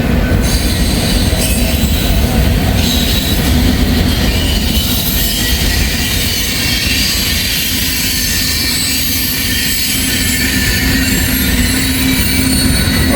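Freight train with double DPU locomotives passing close by, a loud continuous rumble of rolling cars with wheel squeal and a faint clickety-clack that keeps going throughout.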